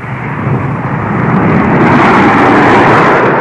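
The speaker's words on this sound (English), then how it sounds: "We think it's just some sort of passenger jet. It's very low." A low-flying passenger jet roars overhead, a loud, steady broadband rumble that swells slightly and holds, then cuts off abruptly.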